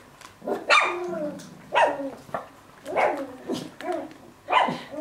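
Puppies from a litter bark and yip in a string of about five high, squeaky bursts spaced roughly a second apart, close by and fairly loud, with faint whimpering between them.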